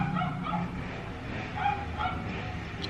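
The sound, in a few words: dog barking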